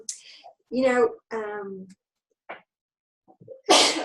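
A short, sharp sneeze bursts out near the end, preceded by a few breathy, voiced sounds and brief vocal fragments.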